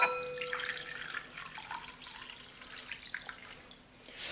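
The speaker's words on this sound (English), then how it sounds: "I'm just going to pour this into the bowl here." Three cups of water poured from a container into a bowl in a kitchen, a soft continuous splashing trickle that thins and fades toward the end, fairly close and alone without talk.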